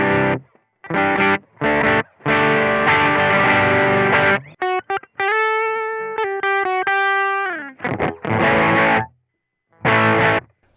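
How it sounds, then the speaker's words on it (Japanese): BOSS FDR-1 Deluxe Reverb guitar pedal with vibrato and reverb switched off, playing its heavy, thick distortion alone: loud electric guitar chords in short bursts, then a run of clipped single notes and sustained chords, with brief silences between phrases. "これで歪みペダルになりました。"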